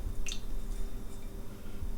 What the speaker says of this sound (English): The cream is bubbling